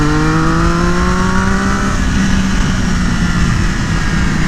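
A Triumph motorcycle on slick tyres accelerates in second gear on the Auto Club Speedway track, its loud, close engine note climbing steadily in pitch against heavy rushing wind noise.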